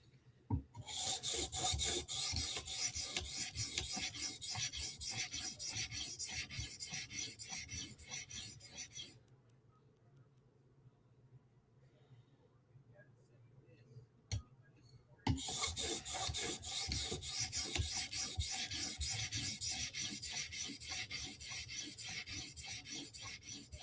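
A Spyderco knife blade is stroked across a sharpening stone in steady, rapid rasping passes, close and fairly quiet, with a pause of near silence midway before the scraping strokes resume.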